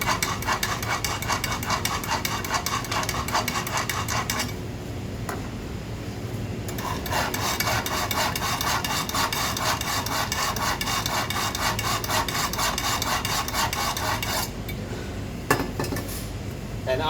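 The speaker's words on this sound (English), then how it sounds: "Also going to be using a chantry knife sharpener. So, first job is to make sure the knives are nice and sharp." Kitchen knives are drawn through a Chantry knife sharpener, a steady metallic scraping and rasping repeated in long strokes with short pauses between sets, close and continuous.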